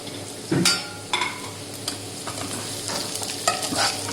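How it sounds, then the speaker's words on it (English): Capsicum and carrot are stir-fried with prawns in a pan, giving a soft background sizzle broken by several sharp scraping and clattering strokes of a spatula at irregular intervals. "Now I'll add capsicum and carrot."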